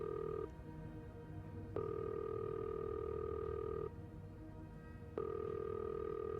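Telephone in the video game This Bed We Made, a steady electronic tone sounding in long stretches broken by two short gaps, with a sharp click at each restart, quiet and alone.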